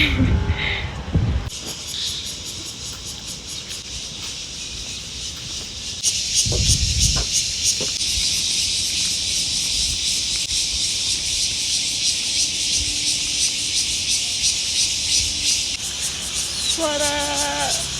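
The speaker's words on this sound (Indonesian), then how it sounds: "Enggak, itu suara serangga." A loud, continuous high-pitched insect drone fills the outdoor air, steady and shrill, with a few brief rustles and thumps nearby.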